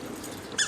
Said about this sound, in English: your dog is squeaking